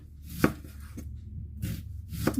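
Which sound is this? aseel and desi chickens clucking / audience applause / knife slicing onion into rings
knife slicing onion into rings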